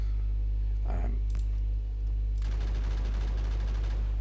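Rapid turret gunfire in a video game, a dense burst of crackling shots that starts abruptly partway through over a steady low hum, with brief clicks before it.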